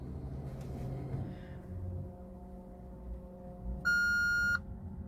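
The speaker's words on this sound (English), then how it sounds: "beeps and stuff in the background because I've been playing around with the airbag and stuff like that" Maserati GranTurismo cabin with the ignition on: a single sustained electronic warning beep sounds near the end, loud and clear over a faint low hum, with a softer brief chirp earlier.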